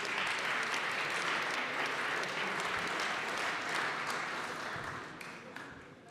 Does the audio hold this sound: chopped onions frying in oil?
no